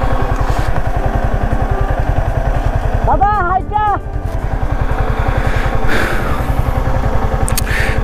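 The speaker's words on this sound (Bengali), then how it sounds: "এবার বাইক দিয়ে আমরা যেতে পারতেছি" A motorcycle engine runs steadily under way on a rural ride to Panchgaon in Kalmakanda, Netrokona, its dense rhythmic putter loud and close throughout, with a brief higher whine or horn partway through.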